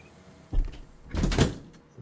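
Aircraft doors closing on a Dash 8 Q400 in the FlyJSim Q4XP flight simulator game, two short mechanical thuds and rumbles a half-second apart, the second longer and louder, with no talking.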